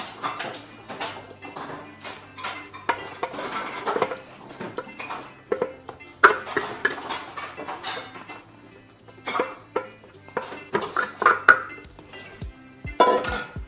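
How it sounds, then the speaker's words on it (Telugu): Chicken goes into a biryani pot in a home kitchen with irregular clinks, taps and scrapes of utensils against metal cookware, close and busy. "ముందుగా అయితే మనం చికెన్ అంతా కూడా దీంట్లో వేసుకుంటున్నాను"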